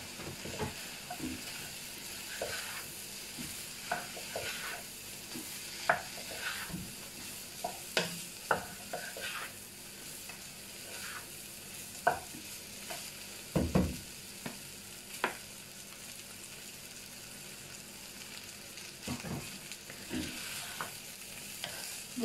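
Cooked basmati rice is stirred into chicken fried rice in a hot pan, giving a steady low sizzle and hiss with scattered scraping and clinking of a spatula, close and continuous.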